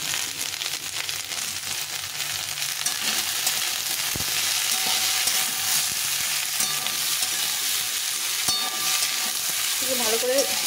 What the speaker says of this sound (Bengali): তাহলে আমি এই সব দিয়ে ভালো করে কষিয়ে নিই।